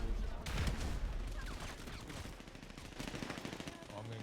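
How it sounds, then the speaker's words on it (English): Rapid bursts of gunshots in a GTA roleplay game, fairly faint and steady across the whole stretch, with a voice speaking intermittently underneath. "I'm getting shot."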